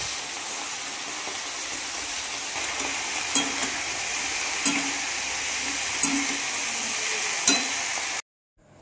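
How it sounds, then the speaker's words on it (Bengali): Leafy greens fry in a pan with nigella seeds and green chilli, giving a steady, close sizzling hiss with a few soft stirring clicks before it cuts off abruptly. "তো ওদিকে শাকটা ভাজা বসিয়ে দিয়েছি,"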